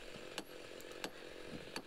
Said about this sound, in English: it's hard to cut precisely with the chainsaw, especially where you can't really see it cutting